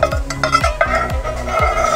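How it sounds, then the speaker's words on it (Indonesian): Used cooking oil and candle wax mixture being stirred for an aromatherapy candle, a utensil scraping and clinking against the container in a steady repeating rhythm, close and fairly loud. "Lalu kita campur-campur."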